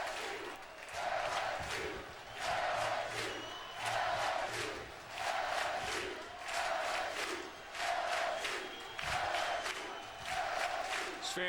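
LSU baseball fans cheer and roar in a stadium during a Super Regional game against UCI, the crowd noise swelling in repeated rhythmic waves, loud and continuous throughout.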